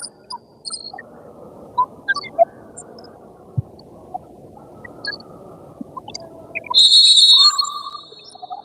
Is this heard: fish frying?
no